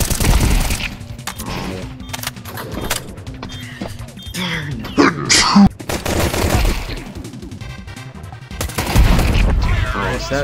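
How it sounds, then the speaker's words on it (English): Gunshots and fusillade bursts in Counter-Strike, sharp loud cracks and rapid volleys scattered across the span among clicking weapon mechanisms and game effects, with a voice talking intermittently over them. "That's a really lucky shot"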